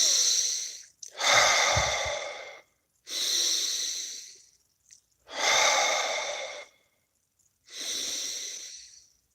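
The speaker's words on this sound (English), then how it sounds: "Breathe." Slow, deep breathing before a prayer, four long audible breaths in and out through the mouth, each a loud airy rush separated by short pauses, close to the microphone with no talking.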